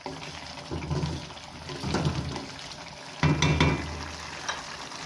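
Chicken karahi cooking in a pan over raised heat, with a soft continuous sizzle and bubbling, a few louder stirring scrapes and clanks midway, fairly quiet and close.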